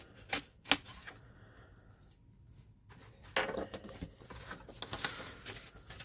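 A knife slicing open a box for a brown calfskin Bible, with scratchy cutting and rustling cardboard bursts, quiet and close.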